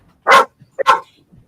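A dog gives two sharp, loud barks about half a second apart, close to the microphone, with a few faint small sounds between them.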